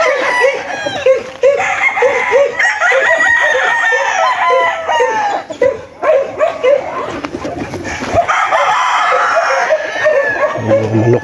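A gamefowl owner's roosters and chickens crow and cluck together, repeated overlapping calls close and loud, with a dog and pigeons faintly mixed in and occasional voices.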